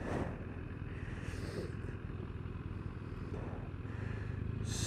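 A 2017 BMW S1000RR motorcycle, 200 brake horsepower, heard as a steady engine drone with wind rush, constant and fairly distant, no talk over it.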